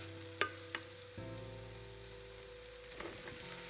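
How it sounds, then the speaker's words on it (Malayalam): Fried cauliflower stirred into Gobi Manchurian gravy in a pan, with a couple of sharp utensil taps early, then steady low sizzling and faint scraping, no talk. "എന്നിട്ട് നമുക്ക് നല്ലോണം അങ്ങ് ഇളക്കണം. ഇതെല്ലാം കൂടി ഒന്ന് മിക്സ് ചെയ്യണം."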